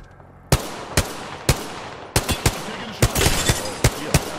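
Gunfire in Apex Legends, a string of about ten sharp, loud shots at irregular intervals, some in quick pairs, over low background game noise.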